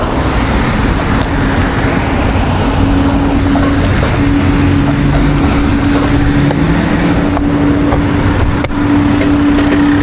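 A Dualtron Victor Luxury electric scooter is ridden fast outdoors, with loud continuous wind rush and road roar and a steady whining motor tone that rises slightly in pitch, and no talking.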